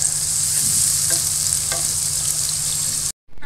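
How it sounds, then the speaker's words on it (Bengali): Chopped onions fry in hot oil for biryani beresta, a steady close sizzle with occasional stirring clinks, continuous until a brief cut near the end. "পেঁয়াজটা আমি হালকা ভেজে নিচ্ছি"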